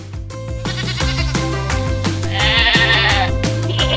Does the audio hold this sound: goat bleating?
yes